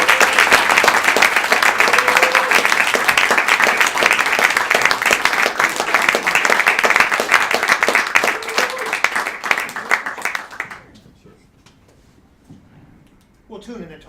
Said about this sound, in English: could everyone just please give a big, warm round of applause to the Malarme Quartet